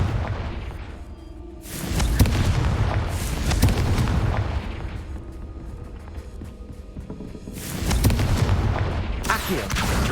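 A Confringo blasting spell sets off loud, rumbling explosion effects in two big bursts with booming low end and crackling debris between them, the blasts heavy and close.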